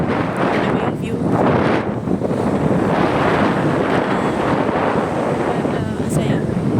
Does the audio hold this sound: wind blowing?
yes